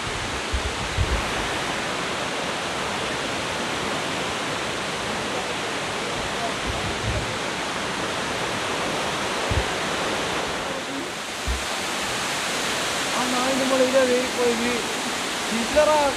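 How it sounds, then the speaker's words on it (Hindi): Steady broadband roar of a jungle waterfall in Wayanad, a continuous wash of falling water heard from nearby along a forest trail, with faint bird chirps near the end and brief footstep knocks. "तो वो वहाँ कहीं पर वाटरफॉल है"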